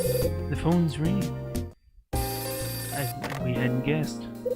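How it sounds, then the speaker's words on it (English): A telephone rings in the 2007 Nintendo DS mystery game Hotel Dusk: Room 215, a loud repeating electronic ring heard in bursts over steady game music, broken by a short silent gap before the ringing resumes. "The phone's ringing."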